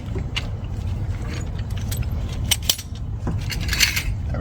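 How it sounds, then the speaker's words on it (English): A car jack is lowered under a Mazda 5 during a transmission service, giving metallic clicks and rattling clanks over a low steady rumble, near and moderately loud. "Bring your jack back down."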